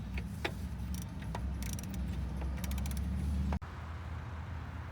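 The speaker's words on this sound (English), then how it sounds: "installing the flywheel lock" Flywheel lock being fitted on a Porsche 944 Turbo engine, close metallic clicks, taps and scraping over a low mechanical hum, ending in a sharp clunk followed by quieter background noise.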